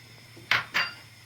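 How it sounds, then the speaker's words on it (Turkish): Spoon scraping and knocking twice in a pot of oatmeal mixed with coffee and cocoa, two short close clinks over a quiet kitchen background. "Güzelce bir karıştırıyoruz."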